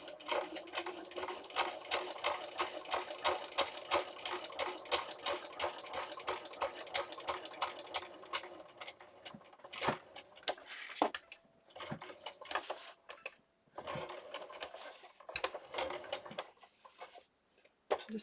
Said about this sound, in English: I'm just going to take a couple back stitches